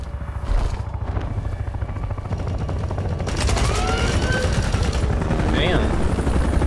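Rapid gunfire aimed at a flying enemy in the fighting game Mortal Kombat X, loud bursts of shots mixed with a whooshing, helicopter-like drone and whistling effects, with a voice talking over parts of it.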